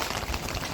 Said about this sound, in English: We're collecting all the water through the French drain, through the basins.